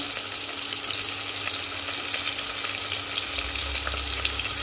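Onions and tomatoes sizzle steadily in hot oil in a pan for a chicken stew, a continuous close frying hiss with faint stirring scrapes throughout.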